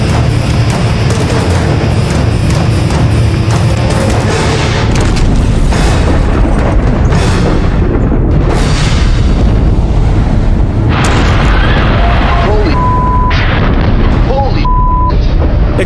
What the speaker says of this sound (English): Explosions spread fires across the entire factory grounds.